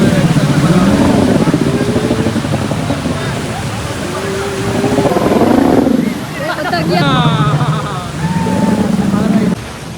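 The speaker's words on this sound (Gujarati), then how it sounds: "પેલી બનાના રાઈડ રિટર્ન આવી રહી છે" A motorboat towing a banana boat ride back toward Coral Island near Pattaya, Thailand, engine drone with rising and falling pitch over wind and water noise, fairly close, with people talking over it.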